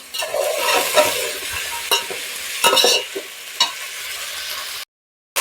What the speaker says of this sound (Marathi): छान असं हे भाजून घ्यायचं व्यवस्थित